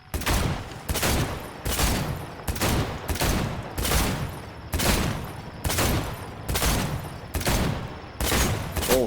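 Gunfire in the video game Cyberpunk 2077 comes as rhythmic bursts of rapid shots, about ten evenly spaced volleys, each loud and sharp with brief pauses between.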